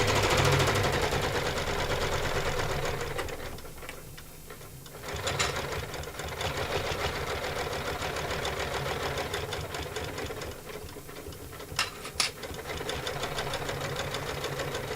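An embroidery machine stitches a sew-shop handbag with a continuous rapid mechanical chatter. It drops briefly twice, and a few sharp clicks break through the steady run.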